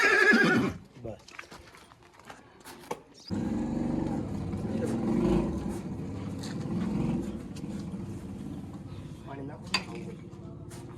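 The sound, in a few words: horse (mare) neighing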